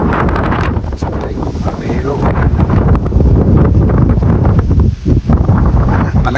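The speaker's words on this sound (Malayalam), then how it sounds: "നല്ല കാറ്റുണ്ട് ഇവിടെ." Strong wind roars across the microphone on the Ilaveezhapoonchira hilltop, a loud, constant, gusting rush that buffets close by throughout, with brief dips near the end.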